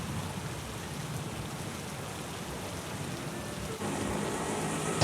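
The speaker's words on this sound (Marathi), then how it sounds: "सकाळपासून पावसाची रिपरिप सुरू आहे" Steady, soft patter of drizzling rain in Nalasopara fills the air, a continuous wash of fine drops with no voices, growing slightly louder toward the end.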